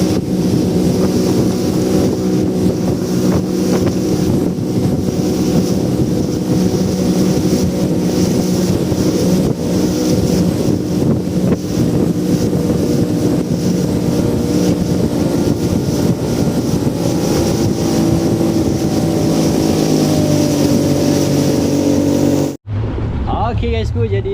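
A speedboat with twin 250 horsepower engines roars continuously at sea, close and loud, with wind buffeting the microphone and water rushing past, and voices faintly under it; the sound cuts off abruptly near the end.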